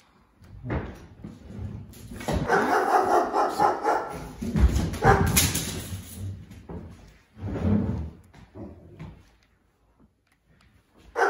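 A ghost dog in Luigi's Mansion 3 barks in loud, repeated bursts, with rattling clatter mixed in, then pauses before a few more barks break out near the end.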